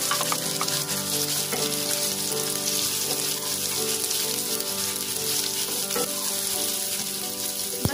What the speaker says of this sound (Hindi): इसे भी हम लाइट पिंक होने तक फ्राई करेंगे।